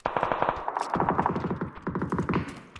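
Rapid bursts of automatic gunfire rattle through a tactical shooter match fought around a compound, in tight repeated volleys with a short gap near one second, loud and close with a slight echo.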